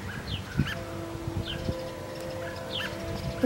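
A robin calls in a spring garden, repeated sharp chirps over a low background hum with a few soft knocks, fairly faint and at a distance.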